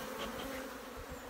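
Honey bees buzz steadily at a hive in winter, a soft continuous drone with no voices over it.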